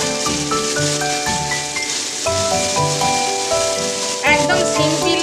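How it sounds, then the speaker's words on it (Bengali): Onions fry in hot oil for masoor dal, giving a steady, soft sizzle that sits under prominent tonal background music. "পেঁয়াজটা দিয়ে দিচ্ছি, আমি একটু ভেজে নেব তেলে।"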